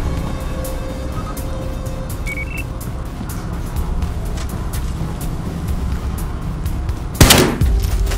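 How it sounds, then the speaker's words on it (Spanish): Steady rattling bursts of rapid gunfire from Battlefield Hardline over a dense noisy background, ending with one sharp, louder blast near the end. "¡He oído disparos!"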